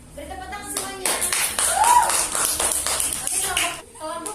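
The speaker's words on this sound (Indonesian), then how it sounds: "Beri tepuk tangan semuanya." A group of students claps steadily for a presenter during an online class session, a loud, continuous patter lasting about three seconds, with voices talking before and after and a short whistle-like tone in the middle.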